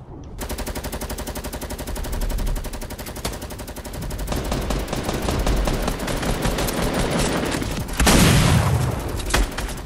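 Dense, continuous gunfire from a 50v50 multiplayer video game battle, rapid automatic bursts and shots layered throughout, with a louder burst and booming impact near the end, no talking.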